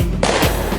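A weapon sound effect at a church event fires a short, loud burst of rapid gunfire that cuts in sharply and lasts under a second.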